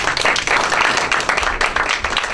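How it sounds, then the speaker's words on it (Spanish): An audience applauds an ambassador at a book presentation on Chinese foreign policy, a dense, continuous patter of many hands clapping in an indoor hall. "Les ruego que le otorguen un aplauso al señor, por favor."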